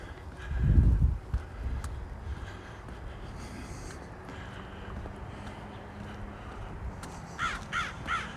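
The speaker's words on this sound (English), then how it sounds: "No, it's a crow." A crow caws outdoors on a spring city walk in Regina, a short series of three harsh calls near the end, moderately distant over wind noise and a low rumble of handling.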